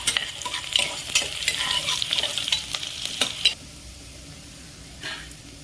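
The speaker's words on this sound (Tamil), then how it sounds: "இது நல்லா கோல்டன் ப்ரௌன் ஆகிற வரைக்கும் நம்ம வந்து வதக்கிக்கலாம்" Onions being sautéed in a pan until golden brown while preparing Afghani chicken, with a sizzle, spatula scrapes and stirring clatter for several seconds, then a quieter simmer with one faint clink.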